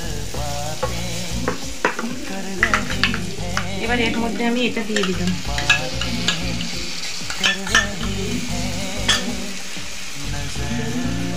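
Vegetarian dry paneer dish frying and being stirred in a pan, with steady sizzling and repeated scraping, clattering strokes close up, while a voice speaks briefly.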